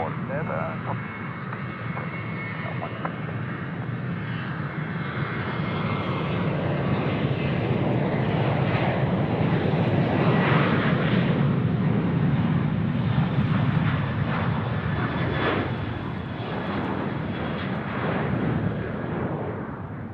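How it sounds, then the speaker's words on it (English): A Malaysian Airlines airliner takes off from runway 34 left at Sydney Airport, its jet engines roaring loudly and steadily throughout, while a voice talks over the noise. "Malaysian Airlines now cleared for takeoff, runway 34 left"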